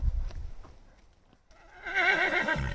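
A gentle riding horse whinnies loudly and close, a long wavering neigh after a few quiet thuds and shuffling sounds in a stable.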